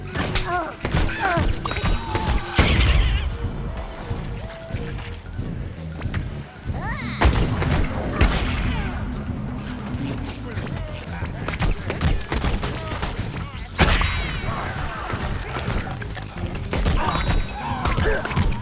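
Dense bursts of gunfire from Plants vs Zombies Garden Warfare crackle through most of the stretch, with overlapping shots and booms, sometimes under faint talk.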